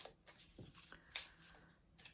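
Tarot cards are shuffled by hand in a quiet room, giving faint riffling and sliding bursts with a sharper snap near the middle.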